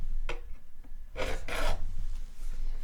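A metal file swiped along guitar frets to level them flat, making a few short rasping strokes close up with pauses between them over a low steady hum.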